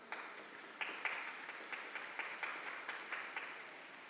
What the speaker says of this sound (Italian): Un applauso alle mamme.